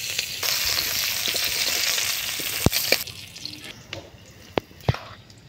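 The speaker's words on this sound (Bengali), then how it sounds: "এটা হয়ে গেছে পেঁয়াজ কুচি ভাজা" Chopped onions frying in oil in a pan, a loud steady sizzle that drops away midway, followed by sharp stirring clinks and scrapes.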